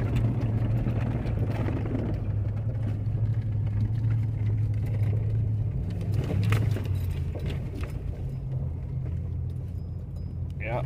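A farm vehicle climbing a frozen hill in two-wheel drive at 17 degrees, a steady low engine rumble with rattling and jangling from the cab, close and continuous, with someone talking over it.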